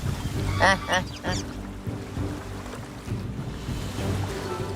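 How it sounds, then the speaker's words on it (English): A flock of birds in a feeding frenzy in the Sundarbans, with a quick burst of harsh, duck-like calls near the start, then a steady low rumble of water and engine noise. "Birds go into feeding frenzy."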